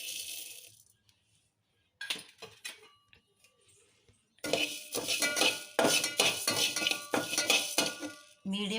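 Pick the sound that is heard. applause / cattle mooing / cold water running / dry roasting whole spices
dry roasting whole spices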